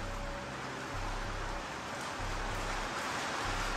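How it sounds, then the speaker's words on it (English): Rain drums on the roof of a parked Hummer, a steady dense hiss of drops with no pauses, fairly close and uniform throughout, with no voices over it. "So you hear all the noise, that's the rain hitting the roof."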